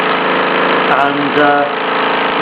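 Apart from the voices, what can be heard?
1969 Mamod SE3 toy steam engine running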